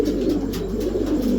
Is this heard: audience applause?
no